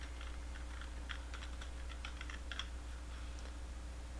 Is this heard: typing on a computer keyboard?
yes